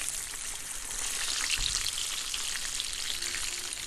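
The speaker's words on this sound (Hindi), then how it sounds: "तो ऑयल हमारे पास जो है इस वक्त गर्म हो रहा है, इसमें इसको एक दफ़ा फिर दोबारा फ्राई करेंगे" Fish pieces frying a second time in hot oil over a medium flame for a crispy Lahori masala fish fry, giving a steady, dense sizzle that holds evenly throughout with no talk.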